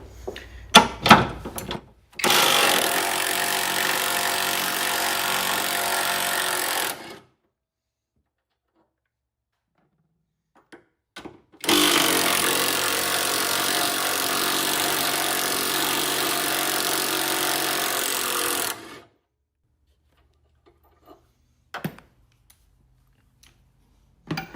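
A Bauer power tool whirs loose engine bolts during alternator work on a car, sounding in two long steady bursts of about five and seven seconds, with a few clanks and clicks around them and silence between.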